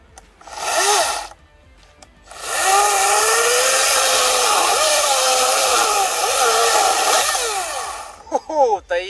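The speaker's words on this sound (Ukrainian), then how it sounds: "І давайте зараз поглянемо, як вона пиляє. Ну що, пильнемо?" EGO CS1400E cordless battery chainsaw, a brief rev followed by a long steady loud cutting whine with wavering pitch as it saws through a log, then winding down with a few short revs at the end.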